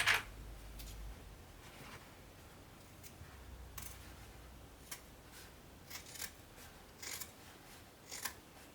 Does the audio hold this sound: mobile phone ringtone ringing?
no